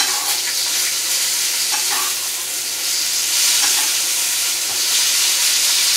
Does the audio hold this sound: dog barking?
no